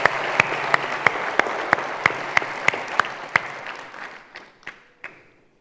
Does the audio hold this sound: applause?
yes